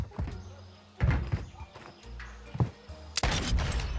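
Gunfire in a Call of Duty match, with bursts of sharp shots and thuds scattered across a few seconds, the loudest flurry at the end, mixed with game noise and a voice.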